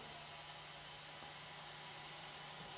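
A Vollrath vacuum pack chamber machine lets air back into its chamber after sealing cheese, producing a steady, even rush of hiss that holds for about three seconds at a fairly low level.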